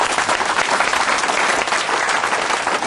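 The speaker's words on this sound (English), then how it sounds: "Give them a clap." Audience applause fills the room at a seminar-style gathering, a dense, steady wash of many hands clapping together at close range, sustained at an even level throughout with no voices breaking through.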